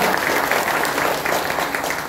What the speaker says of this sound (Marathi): पुन्हा एकदा आपण त्यांचं टाळ्या वाजवून